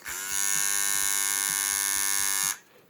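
A rechargeable Chinese electric shaver buzzes loudly and steadily at close range for a couple of seconds, then switches off abruptly.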